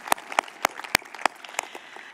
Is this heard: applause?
yes